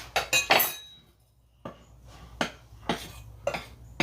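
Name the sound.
whisking buttermilk biscuit ingredients together in a bowl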